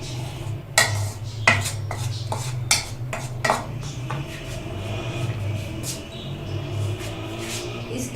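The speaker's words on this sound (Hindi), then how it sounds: "इसमें 1/2 टेबलस्पून बेकिंग पाउडर डालकर अच्छे से मिक्स कर लेंगे।" A utensil clinks and scrapes against a bowl while sifted flour and baking powder are stirred together for a tutti frutti cake, with several sharp metallic taps early on, then steady soft mixing under a low background hum.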